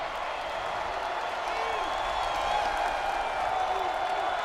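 Homecoming crowd cheering in a college football stadium during a Florida State home game against UMass, a steady, dense roar of voices filling the whole stretch at constant loudness, with a commentator talking over it.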